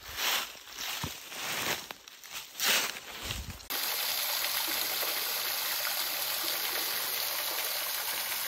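A small waterfall in the Adirondack woods in November splashes steadily in a broad, close hiss, first mixed with rustling movement, then settling into an even continuous rush of water.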